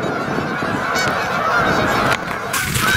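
A large flock of geese honks continuously on river ice, a dense loud chorus of overlapping calls from birds roughly fifty yards away, with no speech.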